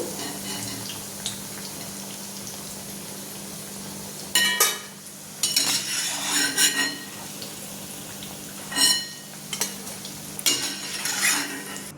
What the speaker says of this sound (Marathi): ह्या झाल्या आपल्या वड्या आता सगळ्या अशात तळून घेऊ आपण